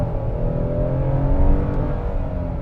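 A 2020 Hyundai Palisade front-wheel-drive SUV with 291 horsepower, in sport mode, accelerates hard with a steadily rising engine note that stays loud and continuous throughout, with no voices.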